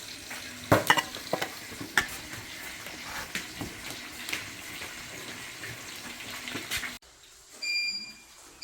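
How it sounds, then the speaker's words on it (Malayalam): Fish frying in a pan at Parambikulam, a broad steady sizzle with scattered pops and utensil clicks near the mic, ending in a brief quieter stretch with faint high tones. "മത്സ്യം വറുത്തു."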